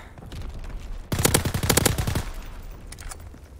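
Rapid automatic gunfire from the Call of Duty video game, a loud burst of closely spaced shots lasting about a second, with quieter scattered shots before and after.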